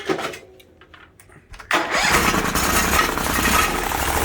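A Bolens 1600H garden tractor engine cranks briefly, then catches and runs steadily and loudly, with a rough, slightly uneven idle.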